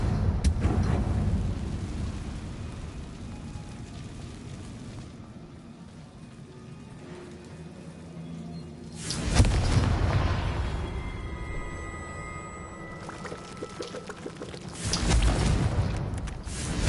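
Confringo blasting spells explode in Hogwarts Legacy, heavy rumbling booms bursting out, one near the start, a big blast midway and another toward the end, with a deep roll and softer rumble in between.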